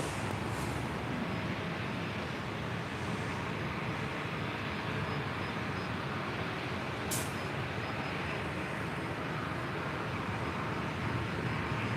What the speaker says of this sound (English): This is the American A321 coming in from JFK